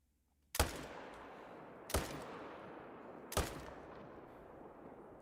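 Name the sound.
gunshots from the video game theHunter hunting wolves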